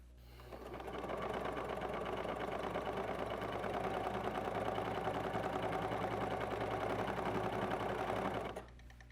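A serger with differential feed runs steadily, sewing a ruffle at a regular stitch length, its rapid mechanical whir and needle rattle continuous and close for about eight seconds, then stopping abruptly.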